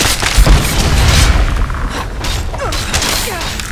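A game explosion in Skyrim, a heavy low boom at the start that rolls off into rumbling debris and mechanical creaks, loud and close, with no talking.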